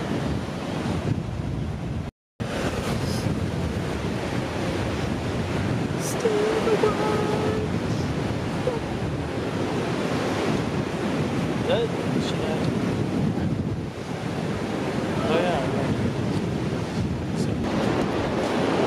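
Ocean surf rolls in steadily at Venice Beach at sunset, a continuous broadband wash of breaking waves with wind buffeting the microphone throughout, briefly cut out near the start, with faint distant voices.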